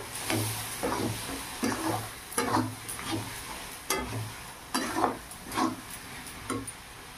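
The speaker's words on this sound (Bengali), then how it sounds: "এই ধোয়া জল দিলাম প্রথমে, একটু নেড়ে চেড়ে নিলাম" Marinated meat stirred in a sizzling pan after the wash water goes in, with a series of close, rhythmic scraping strokes over a constant frying hiss and no voices.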